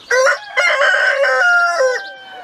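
A rooster crows loudly and close by, one long drawn-out cock-a-doodle-doo with a short opening burst, no talking.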